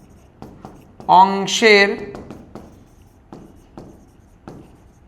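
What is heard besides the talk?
writing with a pen on paper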